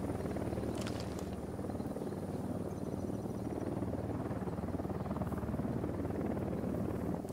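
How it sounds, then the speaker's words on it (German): A helicopter in the video game Ghost Recon Wildlands approaches with a steady, loud rotor thrum and engine drone that holds evenly throughout, no voices over it. "Heli im Anflug."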